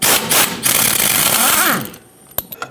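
On a 2007–2014 Chevrolet Silverado 2500 HD, a deep socket loosens the top nut of a front sway bar link. A loud, close, fast whirring buzz of a power tool runs for about two seconds, then a few sharp clicks follow.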